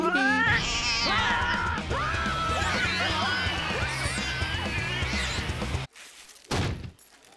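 A voice imitates a cat with a long stretch of warbling, drawn-out meows and yowls, loud and close, ending in a couple of abrupt thumps.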